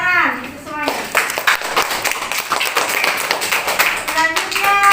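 Classroom applause for presenting student groups, a burst of quick hand claps from many people mixed with children's voices and a spoken voice at the start and end, close and lively.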